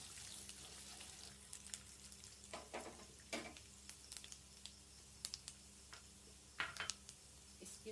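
Cumin and mustard seeds in hot oil, a faint sizzle with scattered small pops and crackles, quiet and close, with light stirring clicks.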